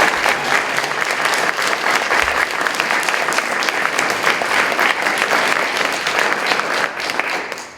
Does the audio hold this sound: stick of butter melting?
no